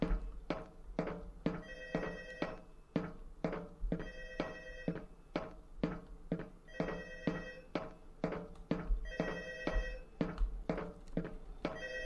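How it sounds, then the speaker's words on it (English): An office telephone in a Roblox FNAF co-op video game rings repeatedly in a steady pattern of bright bell bursts separated by short pauses. The ringing is loud and close and carries on throughout. "Actually, it's a telephone because this is the office phone."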